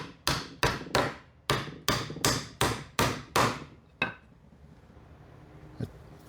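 A hammer strikes about nine times in quick, even succession, each blow sharp and close, then lands one fainter, isolated hit before the sound fades to quiet room tone.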